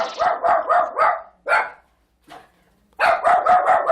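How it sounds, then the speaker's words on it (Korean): A dog in front of a hair salon barks at people outside the shop in rapid loud bursts, a run of four or five, then a single bark, a pause, and another quick close volley. "그때 갑자기 가게 앞 사람들을 향해 짖기 시작하는"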